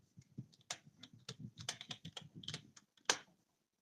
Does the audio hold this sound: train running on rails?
no